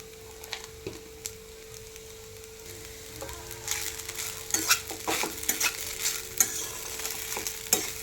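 A spoon scraping and stirring sabudana khichdi with peanut powder in a pan, soft sizzling underneath and irregular clinks that grow busier and louder halfway through, close and without talk.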